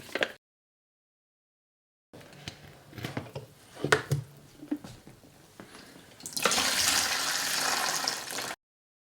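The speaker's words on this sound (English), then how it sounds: "Now I have poured in fixing solution from my fixing bottle in this cup" Film fixing solution is poured into a cup in several short splashy bursts after a brief silence, then a sustained, louder pouring stream lasts a couple of seconds before stopping abruptly.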